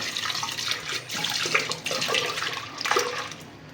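Running water splashes as lentils are rinsed for a curry. The steady, close wash of water is uneven, with small surges and splashy bursts as the grains are stirred, and there is no talking.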